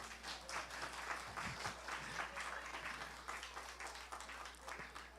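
A church audience at a Christmas gathering claps for a children's performance, giving a faint, steady patter of many hands that continues throughout.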